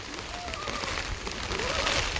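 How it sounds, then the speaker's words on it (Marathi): A heavy, wind-driven rainstorm roars as a dense, steady broadband wash close by, with faint bird calls rising briefly over the downpour. "तुफान पाऊस आला एकदम वाऱ्यासारखा"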